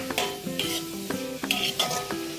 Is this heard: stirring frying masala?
yes